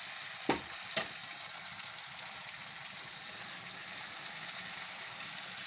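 Spinach going into a pan of frying tomatoes: two sharp knocks near the start, then a quiet, even sizzle that carries on steadily alone.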